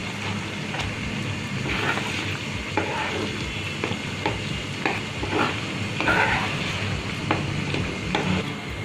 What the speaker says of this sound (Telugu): ఒకసారి మొత్తం బాగా కలపాలి.